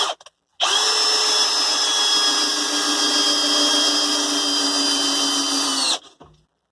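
A Bosch power drill drives a screw with a worn bit, whirring steadily at full speed for about five seconds, loud and close, then stops abruptly and winds down.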